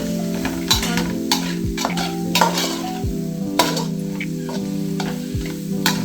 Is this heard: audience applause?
no